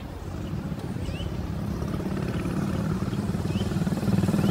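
A motorcycle-powered tricycle engine drones loudly and continuously up close, a rough low rumble that builds slightly in intensity as it runs.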